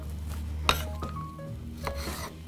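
A few short scraping cuts of a knife slicing a pear into long slices against a board, with soft clicks and taps in between, close and moderately quiet.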